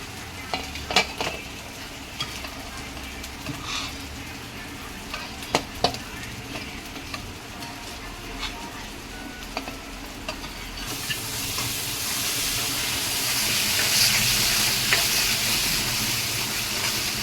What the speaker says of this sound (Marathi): हा मसाला छान तेल सोडेल तोपर्यंत परतायचा आपल्याला